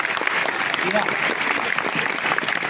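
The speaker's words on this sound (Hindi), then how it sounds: "तो जरा एक बार जोरदार तालियां।" Sustained applause from an audience at a formal event, a steady dense wash of clapping throughout with faint crowd noise beneath.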